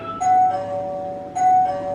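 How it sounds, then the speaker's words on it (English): A separate plug-in doorbell chime in a family home rings twice: two clear, bright ding tones, each ringing out briefly before fading, heard close and alone. "Did you hear that? That's the doorbell."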